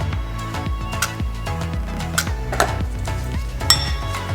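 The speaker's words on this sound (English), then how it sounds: "Now just give that a mix" Spoon stirring pico de gallo with added CBD in a bowl, with repeated clinks and scrapes in an uneven rhythm, close and clear over steady tonal background music.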